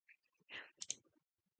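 A few light, quick keyboard key clicks, close and faint, with short gaps between presses in an otherwise quiet room.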